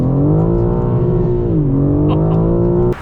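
2023 BMW M4 Competition accelerating hard in first gear in manual mode, a loud close engine roar climbing steadily in pitch, dipping briefly at a shift point, then rising again before cutting off abruptly.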